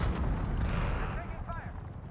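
Percussion grenades burst in the Black Ops 6 shooter on a hardpoint match, making a dense, rumbling low-end blast that rolls on for about two seconds, loud and close with some talk over it.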